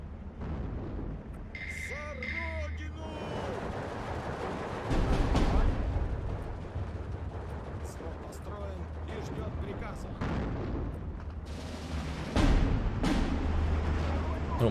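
Artillery and mortar fire in the WW2 real-time strategy game Steel Division 2, heavy booms and bursts rolling steadily over a dense battle bed, with speech present.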